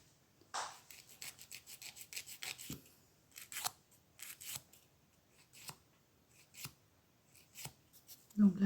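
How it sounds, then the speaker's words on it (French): Nail file rasping across a fingernail fitted with a gel nail strip, in short close scratchy strokes, some in quick runs and others spaced apart, with a voice briefly at the end. "Donc là, je viens le limer."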